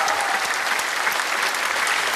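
Audience applause after a singing performance at a show, a dense, steady wash of clapping that runs unbroken throughout.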